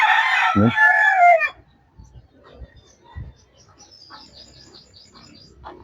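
A rooster crows loudly and close by at the start, then quieter scattered clucks and bird chirps from farm chickens follow across a rural yard.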